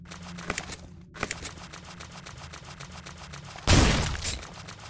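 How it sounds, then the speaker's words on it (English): Shotgun fire in a first-person video game: quick mechanical clicks and clatter, then one heavy, close blast near the end that rings out and fades. "So glad we got a shotgun in this game."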